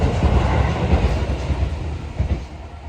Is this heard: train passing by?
yes